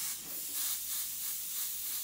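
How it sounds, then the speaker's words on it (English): An airbrush sprays white paint in a steady, close, fine hiss that pulses gently as the stroke moves, with no voices. "I'll probably spray white over it."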